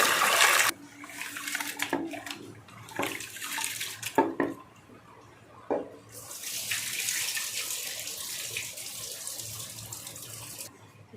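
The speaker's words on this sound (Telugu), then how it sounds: "ఇలా మంచిగా కడుక్కోవాలి" Water splashes and sloshes as lentils are rinsed in a vessel, with a few sharp knocks, then a steady running stream of water near the end.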